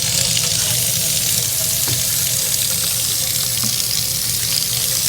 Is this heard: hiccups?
no